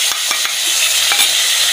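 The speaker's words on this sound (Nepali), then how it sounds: "अब चाहिँ म यसमा प्याज हाल्छु" Onions hit a hot pan for village-style chicken gravy, giving a loud steady sizzle with a few sharp scraping stir strokes near the start, close and without talk.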